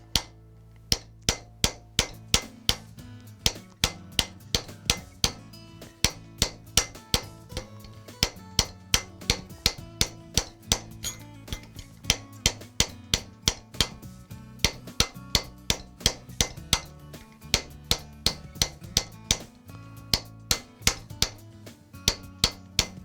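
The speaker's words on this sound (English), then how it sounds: "The final row that we're going to hammer is the middle" A metal concave bracelet being shaped with a hammer, the middle row worked down: rapid, steady metallic strikes ring out clearly one after another, close and alone.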